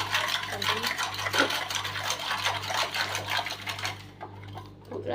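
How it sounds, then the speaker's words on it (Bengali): Lassi being stirred and mixed by a grandmother's hand, giving a steady clinking, swishing stir against a vessel over a constant low hum, fairly close and continuous before easing off near the end. "এখন এখন এই যে গুলছে, লস্যিটা গুলছে।"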